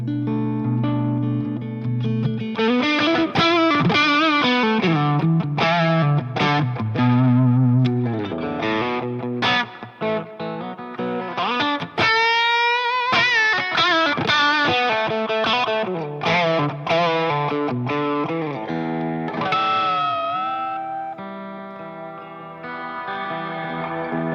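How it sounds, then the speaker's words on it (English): Electric guitar runs through a Tube Screamer overdrive pedal, playing distorted riffs and sustained bent notes with a thick, gritty tone, loud and alone without talk. "Throw on a little tube screamer here."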